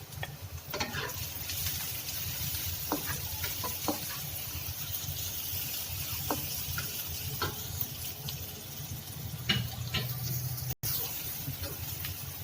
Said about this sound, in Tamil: ஸோ நான் வந்து இடித்து வச்சுருந்தேன் இந்த நெத்திலி அதில் சேர்த்துக்கிறேன்.